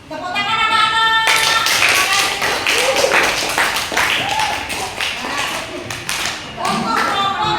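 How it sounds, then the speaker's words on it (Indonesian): Children in a classroom applaud together in a dense, continuous burst of clapping that lasts several seconds, close and loud, with a few voices mixed in. "Tepuk tangan anak-anak."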